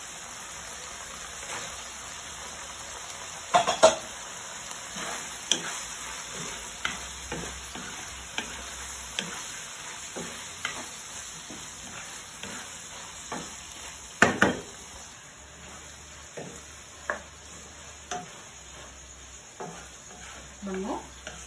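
Hotdogs frying in a pan with a steady sizzle, broken by repeated scraping and clattering as they are stirred, close and moderately loud.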